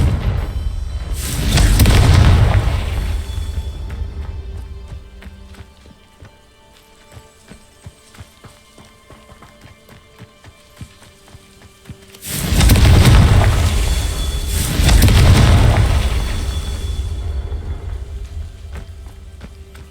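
Two heavy booming blasts from the Confringo fire spell in Hogwarts Legacy, each a loud rumbling burst lasting a few seconds, separated by a quieter stretch of crackling debris and ambient game noise.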